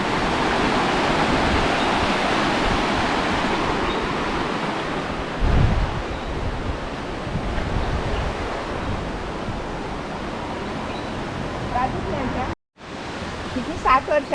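A river swollen by heavy rain rushes past near Ratnagiri, a steady, loud wash of flowing water that fills the whole scene, with people talking faintly over it.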